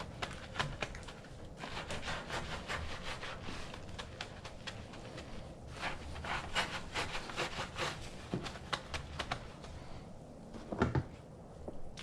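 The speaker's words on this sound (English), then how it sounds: "Then we'll grab our wheel woolly and just get in the back of the spoke." A woolly wheel brush scrubs in and out behind the spokes of a Mitsubishi Evo's wheel, making a steady wet rubbing and swishing close up, with irregular strokes and a sharper scrape near the end.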